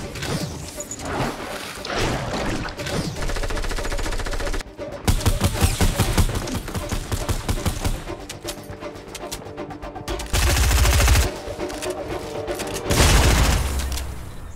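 Suppressed assault rifle fired in a video game, long sustained automatic bursts with brief pauses between strings, close and loud, with heavier punchy volleys near the end.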